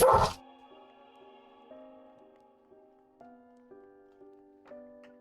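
A single loud bark from a pet dog bursts out at the start, followed by softer musical tones carrying on alone.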